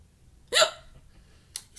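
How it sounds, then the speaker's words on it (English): A woman's hiccups come through close and sharp: one loud, abrupt hiccup followed about a second later by a fainter second one, over a quiet room hum. "Excuse me, I got the hiccups"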